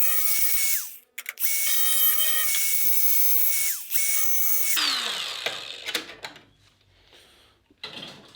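A power tool cuts into the sill panel of a BMW E30 325i M Tech 2, running in loud, steady bursts with short pauses between them, then a quieter stretch of clatter and scraping as the work finishes.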